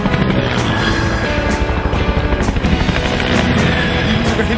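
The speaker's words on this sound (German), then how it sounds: "Hier ist ein Helikopter." A helicopter's loud, close, continuous rotor chop and engine roar fill the scene, a steady thudding drone without pause.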